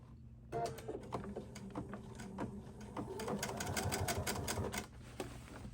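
A sewing machine runs steadily while stitching seams on a Key West Hawaiian shirt, nearby and fairly quiet, with a rapid mechanical needle patter starting after a brief pause and continuing with slight speed changes.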